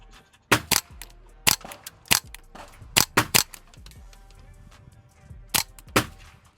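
Suppressed .22 rifle fired through a Warrior Systems Legionary suppressor: about a dozen sharp, fairly loud cracks, some single and some in quick pairs, spaced irregularly over several seconds outdoors with no talking.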